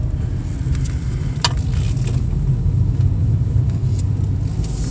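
A car driving hard through sharp corners, its tire pressure sensor faulty, heard from inside as a loud steady low road rumble and engine drone with a few faint clicks and rattles, no talk.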